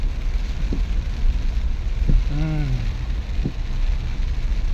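Heavy downpour pounds a mini van crossing deep floodwater near a bridge, a constant broadband wash of rain with a few sharp knocks and a brief squeaky sweep in the middle.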